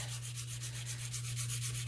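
Steady rhythmic hand sanding of a small open-backed bezel jewelry piece, continuous scratchy strokes with a constant low hum underneath.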